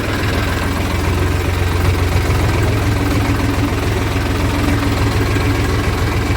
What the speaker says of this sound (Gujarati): આપણે પાછું ટ્રેક્ટર શરૂ કરી દીધું છે.